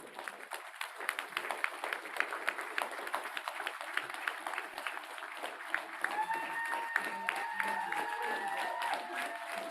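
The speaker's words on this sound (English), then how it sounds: "So let's give the staff a round of applause." Audience at a tribal assembly clapping for the staff, a sustained round of applause from a large room of people, moderately distant, with faint voices mixed in and a brief whistle-like tone near the end.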